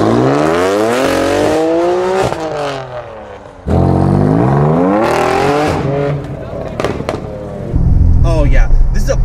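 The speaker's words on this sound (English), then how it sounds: "Oh, and I love the exhaust note." A sports car, a BMW M4 or Corvette on bone-stock exhaust, revs loud and close in repeated rising and falling sweeps, with a short lull before the engine climbs again and a rougher burst near the end.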